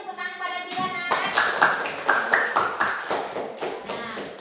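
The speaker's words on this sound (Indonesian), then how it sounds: "Beri tepuk tangan pada Bila," Classroom clapping for a student named Bila, a burst of roughly a dozen distinct claps in loose rhythm, following a short spoken phrase at the start.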